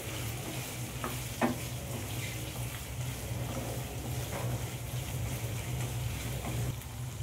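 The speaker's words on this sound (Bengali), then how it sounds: "দিয়ে আবারও আমি ভালো করে আদা রসুনটা চিকেনের সাথে ভেজে নেব।" Chicken frying with ginger-garlic paste, a constant crackling sizzle with a low hum beneath and occasional stirring scrapes and clicks from a spatula.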